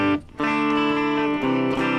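Harley Benton electric guitar on the bridge pickup, played clean with no effects, dull and dark in tone: a sustained chord rings, is briefly cut off, then sounds again and holds loud and close.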